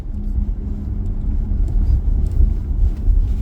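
A BMW 5 Series GT 535d F07 diesel car on the move, heard from inside: a steady low engine and road rumble throughout, fairly loud and without talk.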